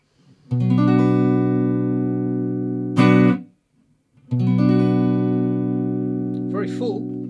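Warm, full electric guitar notes on the neck pickup ring out through a Fender Hot Rod Deluxe amp, two long sustained strums separated by a brief muted scratch and pause.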